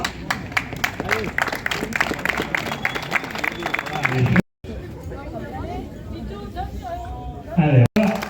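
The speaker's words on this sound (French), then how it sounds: "Allez, on les applaudit là." A crowd at an outdoor cycling race claps and cheers in a dense burst of applause, with a loud announcer talking over it and chatter around.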